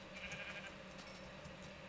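Sheep bleat in the Minecraft video game, a faint, steady murmur with a brief tonal call near the start over continuous low background noise, no voices.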